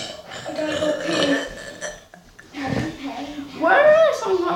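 A person burps out the melody of a song in a run of loud, drawn-out, pitched belches with a couple of short pauses, close up.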